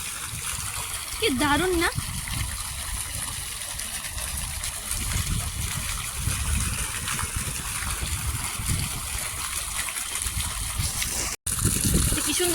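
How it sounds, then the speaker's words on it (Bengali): A water fountain in the grounds of Belfast Castle splashes and gushes steadily outdoors, with someone talking over the constant rush of water. "তো ফোয়ারাটা দেখাই, তো জলের ফোয়ারাটা"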